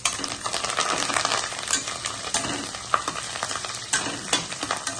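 Curry leaves fry in hot oil in a pan on a low flame for egg fried rice, a close, steady sizzle with crackles and a few sharp pops.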